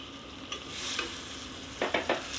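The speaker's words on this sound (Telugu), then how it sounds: "అన్నీ వేసుకొని మంచిగా కలుపుకోవాలి." Fish curry ingredients are stirred in a hot pan: a soft background sizzle with a few close scraping strokes, one early and a quick cluster of three near the end.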